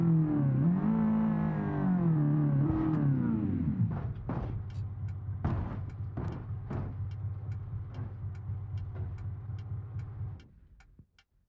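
A custom-suspension buggy in a racing video game runs a timed lap at Imola, its engine revving and winding through gears before settling into a steady drone, with regular ticking clicks throughout and fading out at the end.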